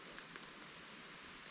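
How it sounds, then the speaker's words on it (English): Rain falls steadily in the Poconos woods near a cabin, a faint, even hiss of drops on leaves and ground with no voices. "Since the rain's picking up"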